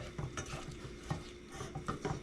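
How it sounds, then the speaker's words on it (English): Syrup for peanut butter ball crisps stirred and scraped in a pot as it heats toward a boil, quiet repeated utensil scrapes and taps over a faint low simmer. "keep scraping the sides as you go. We really want this to come to a boil"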